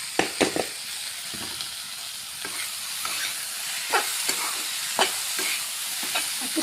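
Cabbage is stir-fried in a pan with peanuts, a quiet continuous sizzle broken by a regular series of sharp spatula scrapes and taps against the pan.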